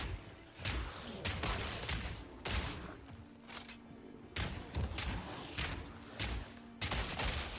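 Repeated bursts of explosions in the game Path of Exile II, loud broadband blasts arriving in irregular clusters with brief gaps between them, no talk.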